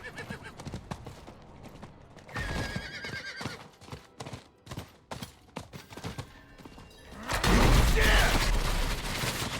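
A horse in Diablo IV neighing and breaking into a gallop, with sharp hoofbeats, a whinny, and then a loud burst of rushing noise as it charges off.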